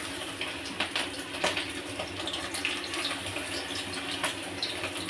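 Chicken pieces fry in hot white oil in a wok for chicken rezala, a soft, continuous sizzling hiss dotted with small crackles and pops.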